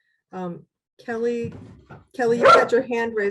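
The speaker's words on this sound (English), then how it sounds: "I'm sorry for the dog" A dog barks a few times in an indoor online meeting, the yaps scattered among people talking.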